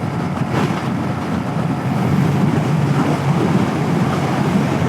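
Steady, loud wind roar buffets the microphone while riding a Hunter 350 motorcycle at highway speed into a headwind, a continuous broadband rush with no talking.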